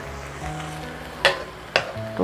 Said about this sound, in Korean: 달달 고추가 나른해질 때까지 볶아줍니다